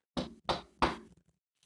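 Three firm knocks on a door, evenly spaced and close by, followed by silence with no voices present.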